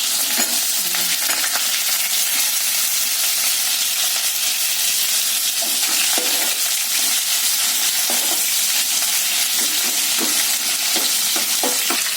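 Green chillies and lengthwise-sliced onion frying in hot oil for sambar, a steady close crackling sizzle throughout with occasional stirring scrapes and light clinks.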